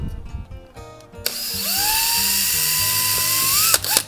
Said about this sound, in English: you need to drill an 1/8-inch hole 2 inches from the top